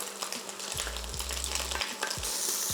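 Sofrito hits a hot pan for a spaghetti Bolognese, sizzling steadily while a spoon scrapes and stirs it in a few short strokes, close and clear with no voices.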